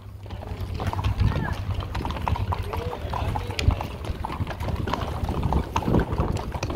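Donkey hooves clip-clop steadily along a rural road to San Juan de los Valles on the feast day, moderately close, while people talk and call out over wind noise.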